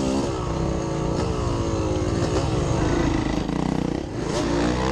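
Dirt bike engine during a harescramble trail race, revving loudly and close with uneven throttle bursts and mechanical clatter, dipping briefly near the end as the engine falters.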